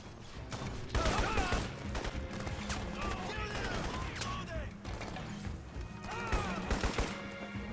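Bursts of gunfire in the Crysis video game, repeated volleys of shots with mechanical clatter and crashes, loud and busy, with a voice talking over parts of the action.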